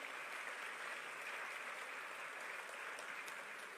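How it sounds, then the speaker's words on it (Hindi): An audience at a grand skill-development ceremony in Lucknow applauds continuously, a broad, even wash of clapping heard from a distance at low volume. "आप सबकी जोरदार तालियां मंच तक पहुंचे।"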